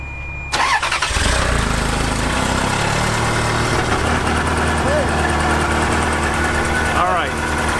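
Old junkyard Ferrari engine, unstarted for six years, cranks roughly and catches into a loud, uneven idle that carries on close by, with voices briefly heard near the start.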